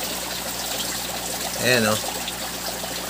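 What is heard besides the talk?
aquarium water being siphoned out of a crayfish tank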